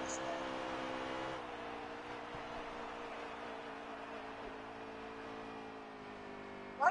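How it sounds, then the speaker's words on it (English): A race car engine in a stock-car racing video game on a Kansas track, a steady droning hum with a slight pitch shift, heard alone and fairly loud. "Why does my car sound like the lawnmower?"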